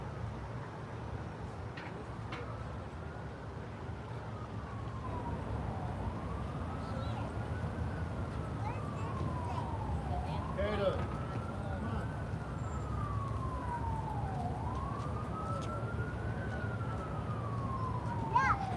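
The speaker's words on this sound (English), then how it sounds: "The cops have their siren on" A police siren wails steadily in rising and falling sweeps, moderately distant, over a constant rumble of Friday-night traffic in Astoria, Queens, New York City.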